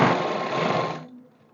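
A sewing machine stitching trouser fabric runs in a fast, steady whirring burst for about a second, then cuts off, leaving a faint fading hum.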